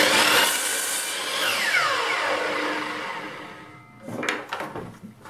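Miter saw cutting through a wooden workpiece in a workshop, a loud broadband whine that winds down as the blade stops, followed by a short clatter of the piece being handled.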